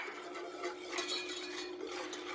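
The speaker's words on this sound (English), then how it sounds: "Now I'm just going to whisk that together." Whisking milk together with a powdered vegan cheese mixture, a steady close scraping and stirring with faint metallic clinks throughout, no talk.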